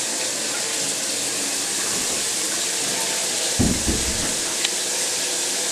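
Warm water runs steadily from a tap to fill a bird's bath, a constant close rush with a couple of brief knocks partway through.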